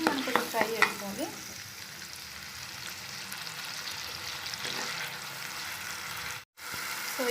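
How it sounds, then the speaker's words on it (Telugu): Ginger garlic paste frying in a pan for a chicken curry, a steady close sizzle with stirring scrapes near the start and a brief dropout near the end, no talking. "అల్లం వెల్లుల్లి పేస్ట్ బాగా పచ్చివాసన పోయేంత వరకు మనం కొంచెం ఫ్రై చేసుకోవాలి"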